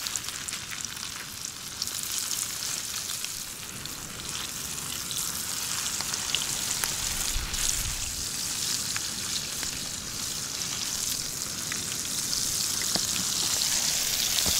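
Fish caught on a fishing trip sizzles and fries steadily in a pan over a fire, a dense, continuous crackle with sputtering spikes, fairly close and alone without talk.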